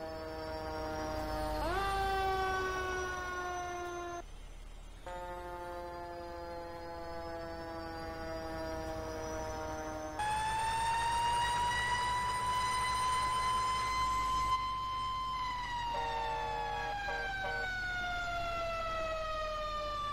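Fire engine sirens wail continuously as engine, ladder and rescue trucks respond to a barn engulfed in flames, rising and falling tones with a steady loud horn-like layer, close and dominant throughout with no talking.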